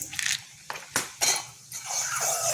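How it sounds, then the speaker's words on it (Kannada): Urad dal and chana dal tipped into a pan with mustard seeds, a few sharp clinks and rattles of a metal spoon against the pan, then a steady hissing sizzle as the lentils hit the hot oil. "ಈಗ ಉದ್ದಿನಬೇಳೆ ಮತ್ತು ಕಡಲೆಬೇಳೆ ಹಾಕ್ಕೊಳ್ತೀನಿ"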